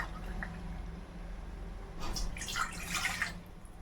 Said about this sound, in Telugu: ఇప్పుడు నేను 2 గ్లాసులు వాటర్ వేస్తానండి.